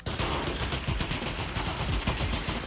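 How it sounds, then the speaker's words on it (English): Uncontrolled full-auto gunfire in the VR shooter Pavlov VR, a dense continuous burst of rapid shots that runs loud and unbroken for the whole stretch, with no talk over it. "I'm gonna fire at you with no recoil control"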